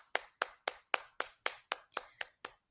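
Ten sharp hand claps or snaps in a steady, even rhythm, each crisp and close with a quick decay, heard alone without talk.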